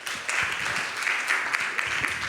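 Audience applause at an academic symposium award session, a short steady burst of clapping from a seated crowd, moderately loud throughout.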